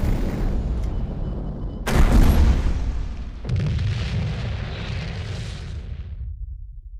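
A tank being destroyed in the video game KARDS: a loud, deep explosive boom bursts out, then a second blast follows, and a rumbling tail fades away afterward, with no voices.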